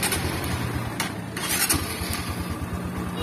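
A motorcycle engine that seized after running without oil cranks and starts up, settling into a low, steady, close rumble with rhythmic pulses and a few sharp clanks along the way.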